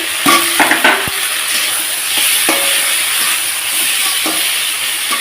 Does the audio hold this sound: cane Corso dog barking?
no